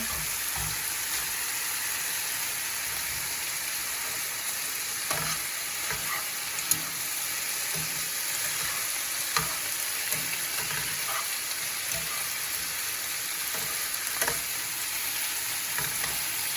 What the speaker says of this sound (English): I know you hear the sizzle.